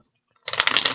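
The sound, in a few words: shuffling tarot cards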